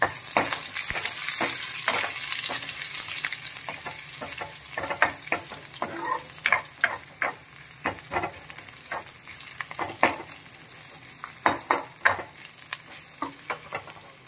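Garlic and a green chili sizzling and frying in oil in a pan while rasam is cooked, with a steady hiss broken by frequent stirring scrapes and spatters, close and alone with no talk.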